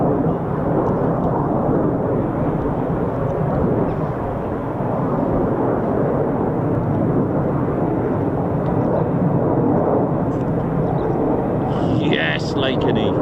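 Lockheed F-35A fighter jets fly over a Royal Air Force base, making a loud, continuous jet roar throughout, with excited spectators talking over the noise.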